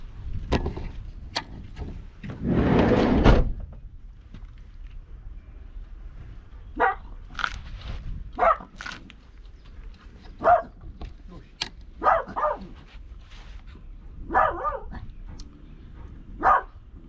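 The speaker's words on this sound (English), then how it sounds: "being hassled by 2 dogs" Two dogs bark and yip in short bursts near a seaside fishing spot, scattered across the stretch with a louder rustling burst early on, while people talk intermittently.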